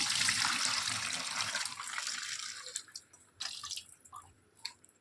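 Running tap water pours over prawns in a kitchen sink, a steady hiss that cuts off partway, followed by scattered drips and small splashes as they are rinsed by hand.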